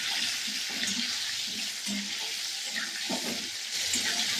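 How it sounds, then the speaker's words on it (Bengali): Potatoes fry in hot oil while being browned for a crab curry, giving a soft continuous sizzle with occasional stirring clatter and faint water-like hiss, moderately quiet and steady throughout. "প্রথমে আলুগুলোকে আমি একটু লাল লাল করে ভেজে নেব।"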